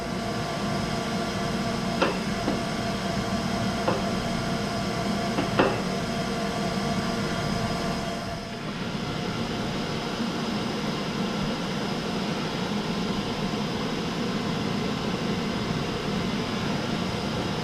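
A surface grinder wheel runs against a metal part in a steady, even whir with a constant machine hum, a few faint ticks and one brief dip in the middle; no one talks.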